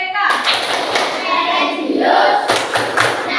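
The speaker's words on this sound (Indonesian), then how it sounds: "Nah, kita tepuk PPK terlebih dahulu." Elementary school children perform a rhythmic PPK clapping chant in a classroom, their claps and thumps landing in sharp bursts while young voices chant along.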